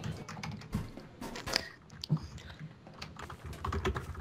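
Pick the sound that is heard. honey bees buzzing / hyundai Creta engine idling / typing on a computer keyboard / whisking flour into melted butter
typing on a computer keyboard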